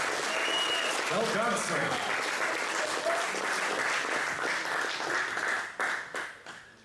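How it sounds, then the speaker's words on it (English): A conference audience at the OpenSIPS Summit in Valencia gives a speaker a steady round of applause that carries on for several seconds, then thins out into scattered claps as someone speaks briefly over it. "Let's give Bogdan a quick round of applause"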